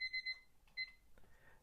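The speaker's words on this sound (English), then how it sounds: "And there goes the timer." Kitchen-style timer going off with a quick run of three bright electronic beeps, then one more beep after a short pause, clear but not loud in a quiet room.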